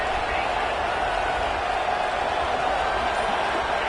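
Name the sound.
stadium crowd noise in a football video game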